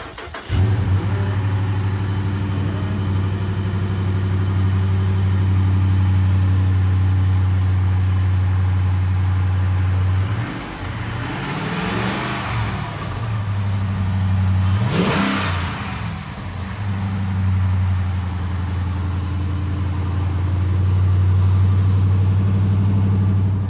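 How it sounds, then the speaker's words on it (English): Dodge Challenger fitted with a K&N cold air intake starting cold: a loud, steady low engine drone close by, with two sharp rev swells rising and falling partway through, then settling back to a rumbling idle. "So I'm gonna give y'all a cold start."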